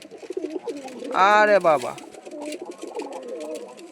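Pigeons coo at a pigeon farm, one bubbling coo standing out loudly in the middle while softer calls continue around it, with a person speaking briefly over them.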